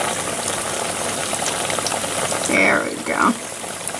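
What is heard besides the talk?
battered honey sesame chicken frying in bubbling oil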